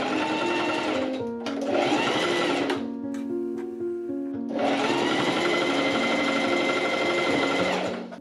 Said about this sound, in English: I sew the cuff edge together with a straight stitch.